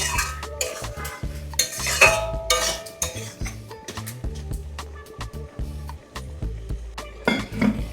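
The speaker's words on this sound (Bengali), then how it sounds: "এবারে আলুগুলো দেওয়া হচ্ছে দিয়ে ভালো করে কষানো হবে তেল ছাড়ছে দেখুন" Mutton curry with potatoes is stir-fried in oil, a metal spatula scraping and clinking against the pan in a steady, busy rhythm, close and clear.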